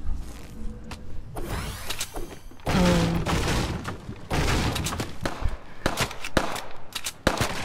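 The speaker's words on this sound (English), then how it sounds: "there's someone shooting at us" Gunfire in an online shooter video game comes as rapid bursts and scattered sharp shots that are loud and close, layered over other game effects.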